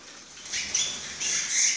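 Timbrado canaries, about twenty to a flight cage, flutter and flap their wings in quick soft bursts, close by, with a few high thin chirps over a quiet hiss.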